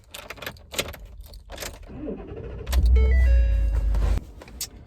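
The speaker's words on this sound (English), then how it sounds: "In the truck, grabbing my keys" Keys jangle in bursts inside a truck cab, followed by the engine starting and a few seconds of steady idling before it cuts off, with no one speaking.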